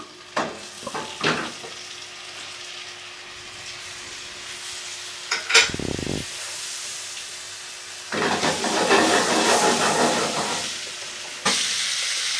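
Beef tournedos Rossini sear in golden butter over high heat, giving intermittent close hissing and spattering with a few sharp knocks, and a louder, denser sizzle swelling near the end.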